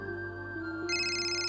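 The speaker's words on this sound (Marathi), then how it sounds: "दादा फोन घे, तुझा वाचतोय यार." A mobile phone ringtone plays steadily at close range in a quiet room, a sustained electronic tone that grows brighter and fuller partway through, with no voices over it.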